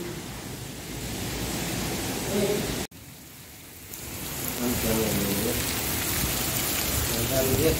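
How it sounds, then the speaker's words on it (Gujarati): A torrential downpour with strong wind makes a dense, loud, steady hiss. A brief cut breaks it near the middle before the roar returns, and faint voices can be heard in the background. "વરસાદ વરસાદ"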